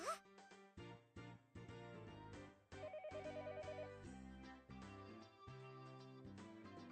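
A telephone rings in the Higurashi visual novel, with a repeating electronic ring pattern over background music, moderately loud, with no talking.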